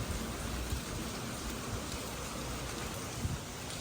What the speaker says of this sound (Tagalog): Yeah, but it's raining. It's wet right now.